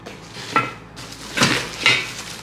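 New Turkish-made cooking pots are handled, giving three distinct metallic clanks and knocks spaced about a second apart against a quiet room.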